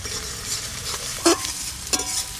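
Ginger-garlic paste frying with browned onions in a pan: a soft steady sizzle with two sharp spatula scrapes, close and alone.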